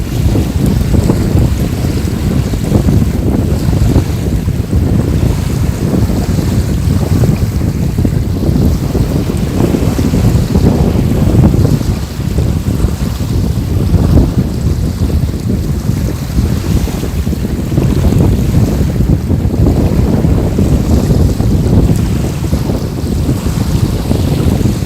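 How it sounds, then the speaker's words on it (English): Strong wind roaring steadily across a frozen winter lake at a catfishing spot, loud buffeting gusts hitting the microphone with constant rumbling noise and no talking throughout. "it is windier than I was expecting today"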